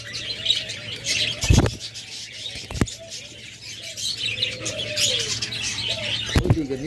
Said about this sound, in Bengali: পাখিগুলো অতিরিক্ত নড়ানড়ি করতেছে